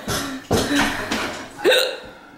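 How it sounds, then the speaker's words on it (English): A person hiccuping, several sharp vocal hiccups in quick succession, close and fairly loud. "I got the hiccups."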